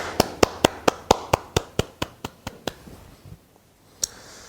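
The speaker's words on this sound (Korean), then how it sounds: "우리 주님 앞에 영광과 존귀의 박수 올려드리도록 하겠습니다." About a dozen sharp, evenly spaced claps ring out in unison from a church congregation during an Easter Sunday service, fading slightly before stopping, with one last clap after a brief pause.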